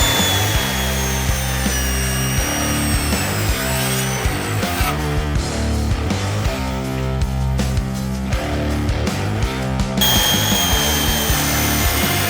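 A power saw cuts through a built-up wooden beam form on a house build, its loud, steady motor whine running continuously with no talk.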